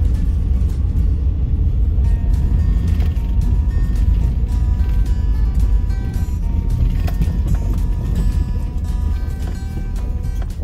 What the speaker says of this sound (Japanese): 結構な登り坂、タイヤ滑ってるね、結構滑ってる